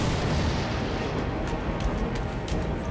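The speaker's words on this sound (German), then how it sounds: "Auf dich wird noch geschossen." Sustained gunfire and booming battle noise from the video game Sniper Elite V2, a dense continuous roar of shots and blasts with a few sharper cracks standing out near the end, no talk.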